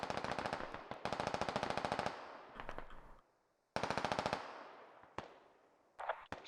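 Video game gunfire with several loud, rapid automatic bursts close by, then single sharp shots and short rattles between quiet gaps.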